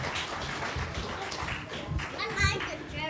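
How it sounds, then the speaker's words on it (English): A church congregation applauds a group of children at a Sunday service, a loose, moderately loud patter of clapping mixed with children's chatter and voices throughout. "Give them all a great big round of applause."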